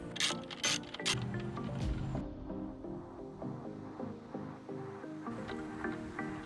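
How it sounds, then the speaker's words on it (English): A T15 Torx bit works to free a Jeep Wrangler headlight from its bezel, giving close, quiet clicks and small ratcheting mechanical ticks in an irregular rhythm, with a few sharper knocks at the start. "We're gonna get a T15 Torx bit and remove the headlight from the bezel."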